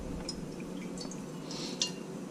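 About a quarter cup of water poured into a fairly big pan to start gravy, heard as light, close dripping and splashing with a few faint clinks against the pan.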